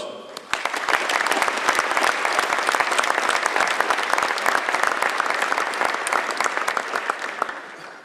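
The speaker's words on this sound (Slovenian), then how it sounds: "Prosim za en aplavz" A military ceremony audience at a Slovenian First Brigade anniversary event breaks into loud, dense applause that starts abruptly and holds steady for several seconds.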